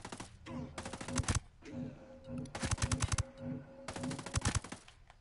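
Gunfire in the video game Ghost Recon Breakpoint comes in three rapid bursts of sharp shots, each a quick string of close cracks, separated by brief pauses over a low steady game hum.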